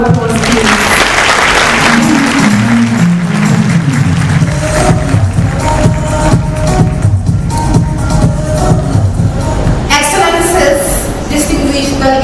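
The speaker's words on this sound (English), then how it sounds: "Let's give them a round of applause, please." An audience at the 2023 Africa climate summit applauds youth speakers from Ethiopia and across Africa, with loud, sustained clapping filling the hall for around ten seconds and crowd noise mixed in.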